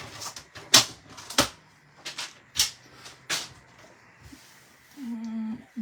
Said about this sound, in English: I'm just using my paper trimmer and I'm just going to cut this 6 by 6